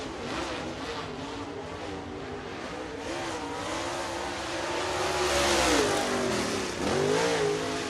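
A race car at Lake Cumberland Speedway in Burnside, Kentucky accelerates hard out of turn four, its engine roaring loud and close with a rising, shifting pitch that dips briefly and surges again near the end.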